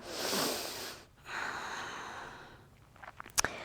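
A big full-body yawn during a yoga stretch with both arms overhead: a long, breathy inhale and exhale, a short pause, then a second drawn-out breath, ending with a few small sniffs, close and soft.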